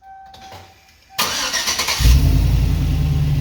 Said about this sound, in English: let's go ahead and start the vehicle.